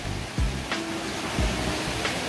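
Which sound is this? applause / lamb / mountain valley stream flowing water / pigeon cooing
mountain valley stream flowing water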